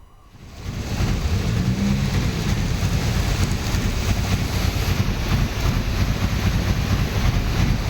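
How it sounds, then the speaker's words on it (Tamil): Heavy rain in Rameswaram pours down with rainwater flowing across a road, a dense, loud, continuous hiss that swells in over the first second and then holds steady. "ராமேஸ்வரத்தில் விட்டு விட்டு பெய்து வரும் கனமழையால் சாலையில் மழை நீர் பெருக்கெடுத்து ஓடுகிறது"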